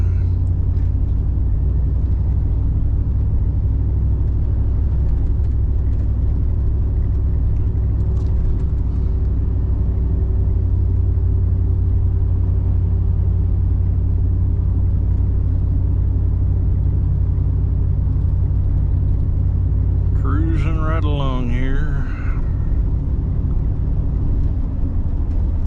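A car drives along snowy winter roads, giving a steady, loud low rumble of engine and tyres throughout. A brief squealing or whining sound rises near the end.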